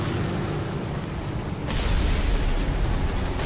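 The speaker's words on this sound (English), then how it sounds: "And then we get bombed" A bomb strikes a tank in a War Thunder battle, landing as a sudden heavy blast that swells into a sustained loud roar and rumble over the engine's background drone, with no talk.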